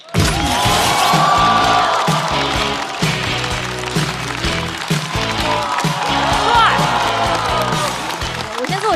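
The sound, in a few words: audience applause and cheering for comedian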